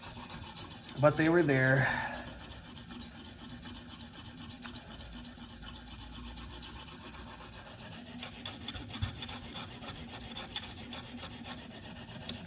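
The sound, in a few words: sharpening a Spyderco knife on a KME sharpener stone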